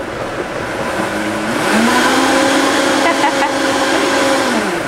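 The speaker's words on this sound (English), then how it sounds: "All right, let's blend this up." Vitamix blender whirring through a goat yogurt and blueberry smoothie, a loud steady motor drone that steps up in speed about halfway, running continuously and close.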